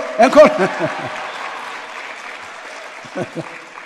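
An audience claps after shouting for an encore in a church service, with a burst of applause and voices at the start that fades to a quieter tail and a few last claps near the end.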